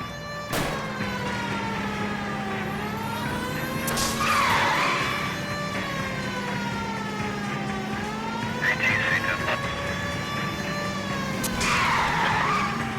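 Car skidding while being spun out in the video game L.A. Noire, a sustained tire squeal that rises and falls over engine roar and a wailing police siren, loud and continuous.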